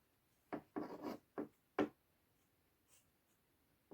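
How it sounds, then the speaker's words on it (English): Scissors snip down through a sock in four short, soft scraping cuts close by, followed by near silence and a faint tap at the end. "I'm going to cut down with my scissors"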